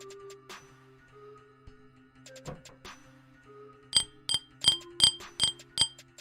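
A real glass cup being clinked, a series of about eight bright ringing taps in the latter half, close and distinct, after a quieter stretch of faint knocks and handling.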